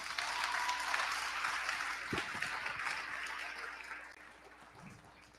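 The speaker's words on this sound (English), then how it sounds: "So I want to ask for a round of applause for all of that." A crowd at a political party board of directors debate applauds, a broad wash of many hands clapping that slowly thins and fades toward the end, with no speech over it.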